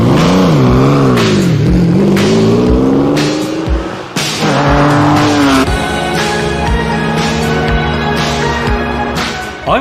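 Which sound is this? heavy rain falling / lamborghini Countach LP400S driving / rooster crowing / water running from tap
lamborghini Countach LP400S driving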